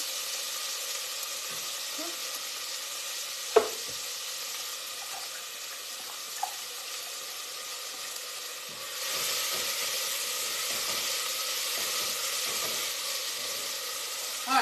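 Onions and carrots sauté in a pan with a steady sizzle that swells louder partway through, broken by a few sharp clinks of a utensil against the pan.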